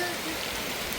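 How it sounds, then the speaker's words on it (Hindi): Heavy rain pours steadily during a flood beside the swollen Oyan river, a dense, continuous hiss of falling water close by with no other sounds. "अभी बारिश भी ज़ोर से हो रहा है।"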